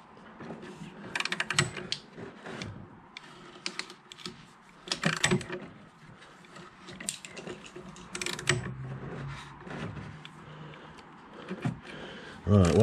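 Bolts are worked loose from the fork of a Peugeot Django scooter with close, irregular metallic clicks and ratcheting taps in short bursts, with someone talking intermittently between them.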